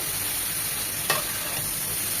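Chichinga (snake gourd) stir-fries with shrimp and onion in a pan, making a steady, even sizzling hiss with one brief scrape of a spatula midway.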